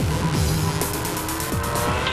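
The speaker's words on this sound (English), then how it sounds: "The DTM gives it space, and through goes the Formula 1 car." A McLaren Mercedes MP4-22 Formula 1 car overtakes a DTM touring car, a loud sustained engine roar with shifting pitch sweeps and tyre noise running throughout.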